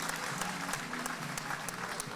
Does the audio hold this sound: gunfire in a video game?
no